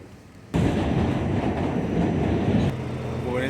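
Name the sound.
train passing on a commuter rail line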